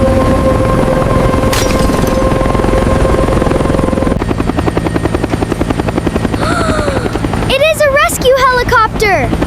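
A helicopter approaches a stranded mountain cable car, its rotor thumping in a steady, pulsing beat that grows more distinct, while excited voices call out near the end.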